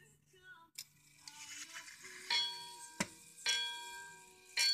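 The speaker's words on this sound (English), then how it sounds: "chime sound of the Verichron regulator wind-up wall clock" Verichron regulator wind-up wall clock chiming, a series of ringing bell-like strikes with sustained tones, several clear strikes spaced unevenly, moderately close in a quiet room.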